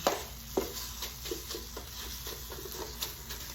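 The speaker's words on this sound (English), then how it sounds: "When you feel like they're getting softer, the pieces, just try to break them apart with a spoon." Soft guava pieces cooking in a pan over moderate heat, broken apart with a spoon: a quiet, steady bubbling with light scraping and tapping knocks recurring every half second or so, close up and without voices.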